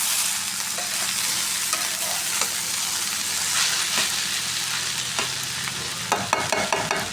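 Potato, carrot and bean pieces fry in a pan with a dense, continuous close sizzle, joined toward the end by a quick run of spatula scrapes and taps against the pan.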